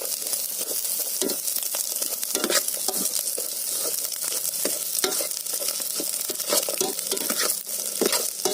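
Dried bulinaw fish sizzles and crackles steadily in hot oil in a pan, a close, continuous frying hiss with frequent sharp pops and occasional stirring scrapes.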